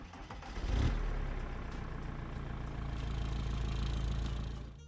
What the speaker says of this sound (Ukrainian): А зараз у нас буде продемонстрація запуска, як заводиться даний автомобіль.